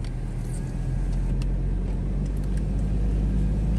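A Toyota Revo pickup in four-wheel-drive high rolls along a snow-covered mountain road at Lowari, giving a steady, close, low engine and road rumble with no break across the clip.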